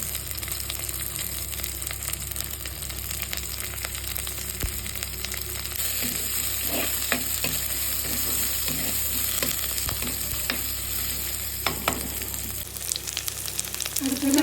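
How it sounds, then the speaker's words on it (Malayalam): Okra and two green chilies fry in a pan with a steady, close sizzle, while occasional scraping and stirring sounds cut through the hiss. "നമുക്ക് ഇതിനകത്തേക്ക് വെണ്ടയ്ക്ക ഇട്ട് കൊടുക്കാം. നമുക്ക് 2 പച്ചമുളക് ഇട്ട് കൊടുക്കാം."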